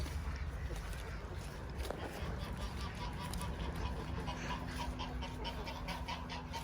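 Runner ducks and other poultry call in a backyard flock at feeding time, a steady mix of quacks and clucks running throughout, moderately near, with a faint voice now and then.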